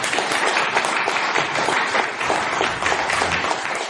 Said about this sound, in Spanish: podían haber aplaudido un poquito más fuerte